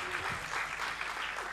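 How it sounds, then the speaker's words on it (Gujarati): At a Gujarati poetry gathering, the audience gives a quiet round of applause in honor of an organizer, soft and somewhat distant. "એક વખત એમના સન્માનમાં તાળીઓ પાડી દો."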